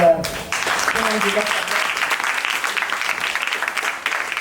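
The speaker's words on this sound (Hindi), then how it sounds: "तो इतनी कमज़ोर तालियों के साथ" Applause from a poetry gathering audience in Mumbai, a steady spread of many hands clapping at moderate level, with a brief voice and tones at the very start before the clapping takes over.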